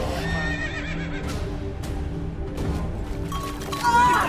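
A horse neighs with a long, wavering whinny over steady background noise, close by, with a few sharp clicks and knocks and a louder cry near the end.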